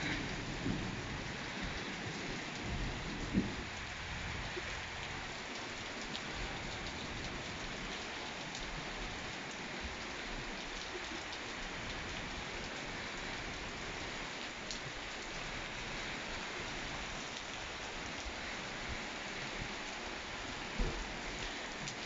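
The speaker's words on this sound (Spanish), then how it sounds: "Está lloviendo a cántaros." Heavy rain pours steadily in Paterna in a constant dense hiss, with a low distant rumble of thunder underneath and a few louder drips.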